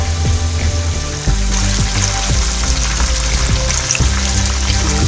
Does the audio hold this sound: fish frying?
yes